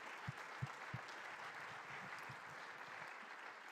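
A congregation at a church ceremony applauds softly, a faint, distant patter of clapping with a few louder thumps near the start.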